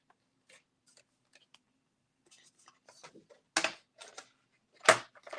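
An 8.5 by 11 sheet of cardstock is sliced in half. Faint clicks and handling come first, then two crisp, sharp cutting swishes stand out clearly in a quiet room.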